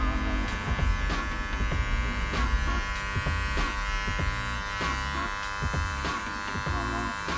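Electric hair clippers buzz steadily while cutting curly, coarse hair over a comb, with rhythmic bursts as the blade passes through the hair, close and loud throughout.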